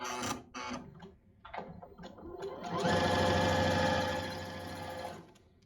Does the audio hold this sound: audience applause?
no